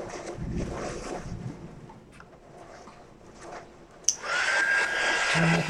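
A heat tool blows hot air over a drying craft embellishment on a clipboard, its whirring airflow switching on sharply after a faint stretch and then running loud and steady.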